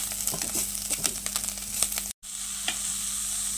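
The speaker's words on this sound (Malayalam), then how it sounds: "ഇനി ബ്രൗൺ കളറാകുന്നവരെല്ലാം കൂടി ഒന്ന് വഴറ്റിട്ട്" Vegetables with coconut being sautéed in a pan until brown for a Kerala-style kootu curry, a steady sizzle under repeated scraping stirs of a spoon, close, with one brief dropout.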